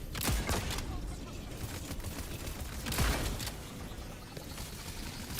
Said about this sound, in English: We taking heavy fire out here